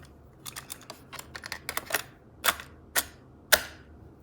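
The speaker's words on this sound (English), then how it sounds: "so let's get a tape inside." A cassette tape is fitted into a Marantz PMD221 portable recorder, giving a close series of small plastic clicks and rattles that end in three sharper snaps.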